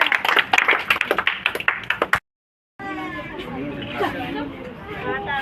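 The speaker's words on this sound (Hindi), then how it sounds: "ताली बजाओ रे।" A crowd claps at a coaching-class gathering with quick, uneven hand claps for about two seconds, then a brief gap, followed by lively overlapping chatter and talk from many people.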